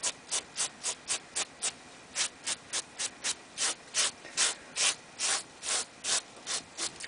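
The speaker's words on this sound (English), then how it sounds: "Just give it a good brushing" Stiff brush scrubs loose material off a firebrick surface in quick regular strokes, about twenty-five crisp scratchy swipes in a steady rhythm, close up with no talking.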